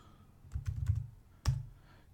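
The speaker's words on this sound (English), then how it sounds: "now we're going to start typing ggplot2." A short burst of keystrokes on a computer keyboard while typing a package name, a quick cluster of taps followed by a single firmer key press, close and quiet.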